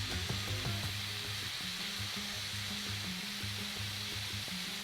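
Marinated flank steak sizzling on a hot grill, a steady close hiss of fat and juices with faint low clatter underneath, no voices.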